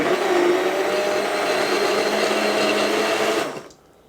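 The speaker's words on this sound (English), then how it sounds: "that's a good blender." Blender whirring steadily while blending a milkshake with sugar and banana, a loud continuous motor drone that cuts off abruptly near the end.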